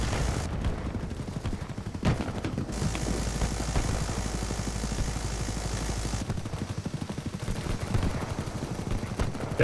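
Rapid video game gunfire, bursts of automatic shots crackling continuously with brief gaps, a heavier low rumble underneath for several seconds, loud and close throughout with no talking.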